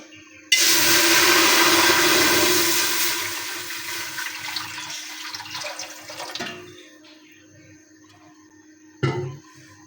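Water gushes loudly into a pressure cooker for several seconds, gradually easing to a trickle, then a brief splash near the end.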